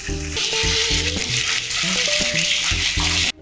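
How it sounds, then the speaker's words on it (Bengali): Chicken frying in a pan for chicken rezala, a loud, dense sizzle running continuously under background music until it cuts off abruptly at the end. "চিকেনটাকে এপাশ ওপাশ করে ফ্রাই করে নিব 4 মিনিট, 3 থেকে 4 মিনিট।"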